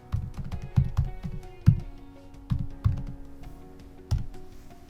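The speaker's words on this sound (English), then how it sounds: "go to your internet browser and type in Coolors" Computer keyboard keys tapped in an uneven sequence of distinct, fairly hollow clicks, close up with pauses between strokes and no talking.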